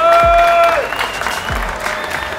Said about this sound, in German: Kleinen Applaus hier für die Jungs hier.